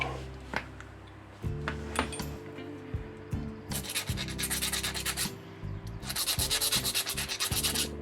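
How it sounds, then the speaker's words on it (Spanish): A small Shimano fishing reel part has its tip sanded in repeated rubbing strokes that build into a dense, rhythmic scratching, close by and growing louder and quicker toward the end. "Voy a meterlo otra vez y lijarle la puntica a ver si sale"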